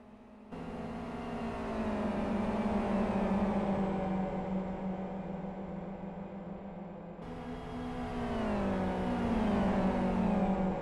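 Racing cars in the sim game Live for Speed, GTR-class machines in close battle with one in another's slipstream: a steady droning engine note sustained at speed, then a cut and a fresh rising engine roar as the view switches cars.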